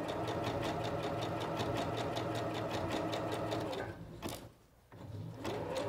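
A SINGER Professional 9100 sewing machine runs a skirt seam with rapid, evenly pulsing stitches. It pauses briefly and slows once, then picks back up at full speed.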